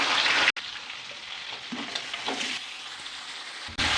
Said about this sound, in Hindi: प्याज हमारे गोल्डन फ्राई हो चुके हैं। अब इसमें हम गोश्त ऐड करेंगे जो हमने बॉईल कर लिया था।